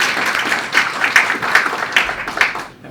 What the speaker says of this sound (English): And applause all yours.